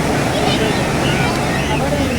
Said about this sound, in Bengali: এই কক্সবাজারের ঢেউ দেখছেন, অপূর্ব অপূর্ব সুন্দর